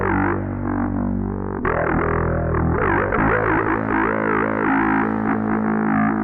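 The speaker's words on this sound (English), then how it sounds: "the filter sweep is happening here with that high resonance, and then that's going into distortion" Bass guitar runs through a Ghost pedal with a resonant filter sweep feeding distortion, producing a loud, buzzing tone whose peaks swoop up and down continuously, with a fresh note struck partway through.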